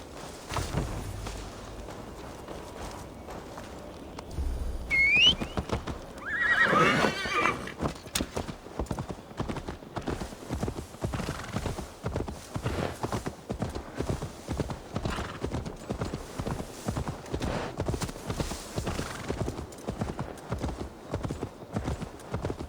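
Horse hooves clip-clop steadily at a walking pace in a Viking-era video game set in England, with a short whinny near the start and a rough snort soon after, then the rhythmic hoofbeats carry on alone to the end.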